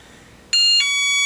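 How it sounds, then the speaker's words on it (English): Electronic beeping from a UPS delivery truck nearby in a workshop, a steady tonal beep that switches on abruptly and holds with stacked bright tones, one brief pitch change partway through. "Wait for the UPS driver to leave so the beep quits."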